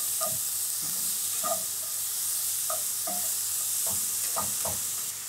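Brown sugar and cinnamon cook down in a pan with a steady, soft sizzle, broken by a few light scraping stir sounds close by, without any talking.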